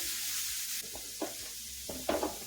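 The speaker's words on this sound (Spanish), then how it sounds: "Cuidamos que el ajo no se nos vaya a quemar" Garlic frying in a pan before meat goes in, a soft steady sizzle broken by a few short stirring scrapes near the end.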